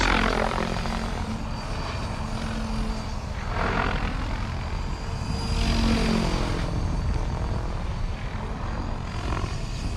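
Freedom Piuma RC helicopter hovering at low head speed, a steady continuous rotor and motor whir that stays fairly loud and even throughout, with slight swells in intensity and no talking.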